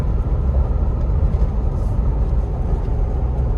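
A 1995 Toyota Hilux Surf cruises in fifth gear at about 100 km/h with firm suspension, a steady low engine and road drone holding even and loud throughout, with no talk.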